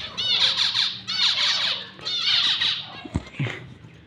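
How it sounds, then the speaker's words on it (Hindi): Partridges call from inside their enclosure, giving three loud, close bursts of rapid chattering squawks about a second apart, followed by softer clucks and a few thumps. "तो ये देखें, ये हमारे तितर पड़े हुए हैं।"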